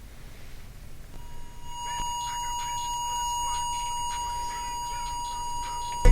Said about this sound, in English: we got some beeping going on